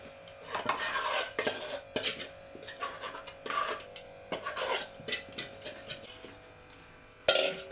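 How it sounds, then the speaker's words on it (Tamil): Adhirasam dough being mixed in a bowl produces repeated scraping and clinking strokes of a utensil against the bowl, rhythmic bursts close by with brief pauses between. "இப்போ நல்லா மிக்ஸ் பண்ணிக்கோங்க"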